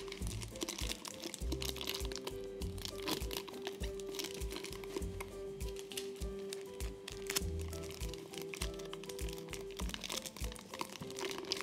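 Paper and tape crinkle and crunch close up in steady, busy bursts as a paper maraca filled with rice is pinched, folded and taped all the way round, with a faint steady tone running underneath.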